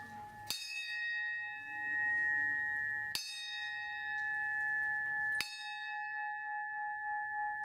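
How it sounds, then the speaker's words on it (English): Three loud, ringing bell strikes spaced about two and a half seconds apart, each decaying slowly, as part of a ten-bell salute rung inside a wrestling ring at a live wrestling event. "a 10-bell salute took place inside the ring itself"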